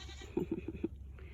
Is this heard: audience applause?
no